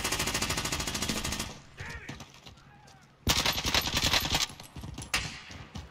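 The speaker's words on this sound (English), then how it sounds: "Just shooting Igor." Dense automatic gunfire from an online shooting video game rattles in long rapid bursts, pausing briefly before another loud volley and scattered shots, with faint talk in the background.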